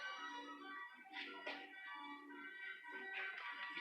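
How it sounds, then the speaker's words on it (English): Carousel music at the old Savin Rock amusement park plays faintly in the background, a steady tonal tune running through the whole moment without speech. "You can hear the music playing in the background from the carousel."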